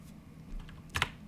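A short burst of a few keystrokes on a computer keyboard while coding, a quick cluster of clicks near the end of a quiet stretch.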